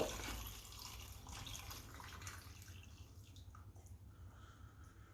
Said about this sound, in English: Let's go ahead and pour that brine straight over the top.